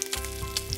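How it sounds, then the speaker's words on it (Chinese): Chicken thighs pan-frying in soybean oil, a steady close sizzle with a faint crackle running through the whole moment, no voices. "平底锅加油，将鸡腿两面煎熟"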